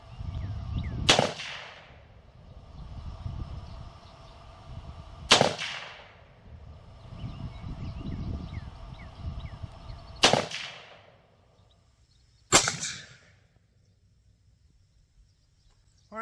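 .223 rifle firing Hornady soft-tip ammunition outdoors, four sharp, loud single gunshots spaced several seconds apart, each with a short echoing tail, over faint background birdsong and rustling.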